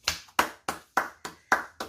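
Seven sharp hand claps ring out close by in a steady, evenly spaced rhythm, each one crisp with a short decay and quiet gaps between.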